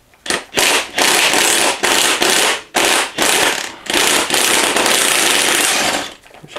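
A large impact wrench bursts repeatedly against a bolt during teardown of a Can-Am Rotax V-twin engine, loud close hammering rattles in short bursts separated by brief pauses.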